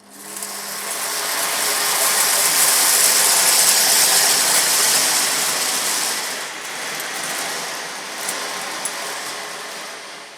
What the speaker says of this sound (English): I'm also using the vacuum cleaner on its maximum suction power.